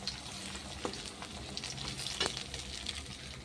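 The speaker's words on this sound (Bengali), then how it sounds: "দেখুন কিছু বড়া হয়ে গেছে, আর কিছু বড়া হচ্ছে" Fritters fry in hot mutton fat, giving a steady, close sizzle and crackle with a couple of brief clinks and no talking.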